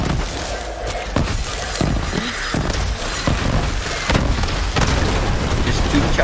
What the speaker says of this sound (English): Just keep chucking these grenades and watching the magic.